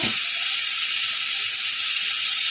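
Slit green chillies hit hot oil in a pan while making jhinge aloo posto, giving a loud, steady, broadband sizzle that holds evenly throughout with no voices.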